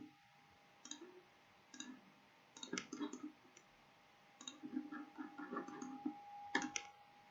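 Computer mouse clicks while a road route is drawn in Netcad software, sharp clicks in small irregular bursts separated by quiet pauses, close and crisp with faint soft rustling between them.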